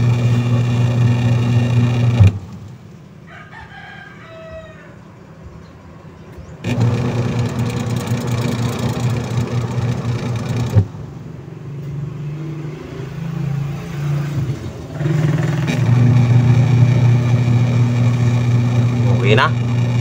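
Motor of a faulty Hanabishi washing machine, running and spinning in loud, steady humming bursts that stop and restart several times, with a voice talking in between.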